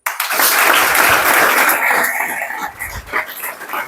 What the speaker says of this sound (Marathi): या मुलींसाठी सगळ्यांनी टाळ्या वाजवा.